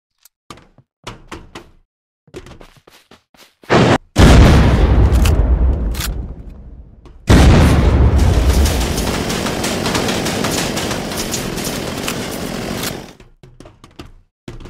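Loud explosions boom through the Unturned video game during a base raid, with a sharp blast near four seconds and a bigger one near seven, each followed by a long rumbling decay, among scattered smaller impacts and clicks.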